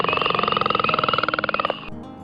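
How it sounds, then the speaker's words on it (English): A leopard frog calling in a rapid pulsed croaking run of about twenty quick notes, loud and close, which stops abruptly near the end. "Leopard frog."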